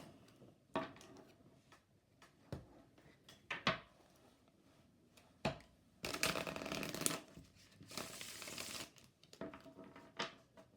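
Tarot cards from a Sunny Forest Tarot deck shuffled by hand close up, quiet riffling bursts and soft taps interrupted by longer fluttering stretches of cards sliding together.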